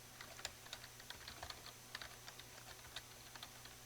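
Typing on a computer keyboard, with quiet, irregular keystroke clicks coming in short bursts close to the microphone over a faint steady hum, with no talking.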